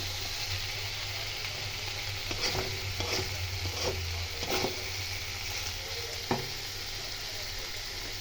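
Okra stir-fries with poppy seed paste in oil under a low, even sizzle. Scattered scraping and clinking strokes of a spoon sound against the pan, with one sharper knock near the end.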